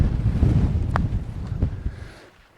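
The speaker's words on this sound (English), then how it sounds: "If you can hear me over this quite blustery wind." Blustery wind on a fell summit walk near Barf in the Lake District pounds a microphone as a loud low rumble that fades out near the end, with a brief faint squeak midway.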